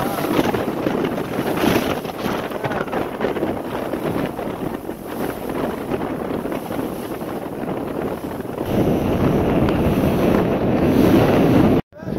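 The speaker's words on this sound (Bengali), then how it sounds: "নদীর মাঝখানে আমরা এখন সেই উত্তাল ঢেউয়ের মাঝে, এই যে ঢেউ দেখতেছেন, উত্তাল ঢেউ" Rough river water churns around a moving boat mid-river, a continuous loud rush of waves and wind buffeting the microphone, swelling louder toward the end before cutting off abruptly.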